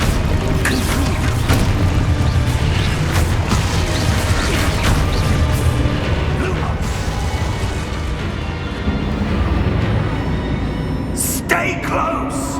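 Confringo fire spell blasts in the wizarding game Hogwarts Legacy, heavy booms and crashes over a dense, loud rumbling battle mix with scattered impacts, no talk.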